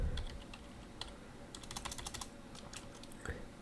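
Typing on a computer keyboard while writing a simple print command in a Computercraft programming lesson: quick bursts of soft, close key clicks with a few louder keystrokes, no voices.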